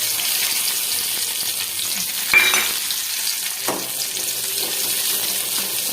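Shallots and curry leaves frying in hot oil give a steady, close, bright sizzle that runs throughout, with a couple of brief clinks of a utensil midway and no speech.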